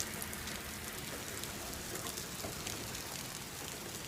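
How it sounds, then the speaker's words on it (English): Rain mixed with hail falling outside a library in mid-May, a steady dense patter with scattered sharper ticks of stones, continuous and fairly close throughout. "It's raining, it's hailing"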